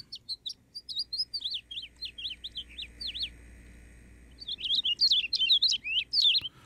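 Birds chirp in the game Nevermind with rapid, bright, repeated tweets in two bursts. The chirps are separated by a short pause and sound over a low, quiet hum.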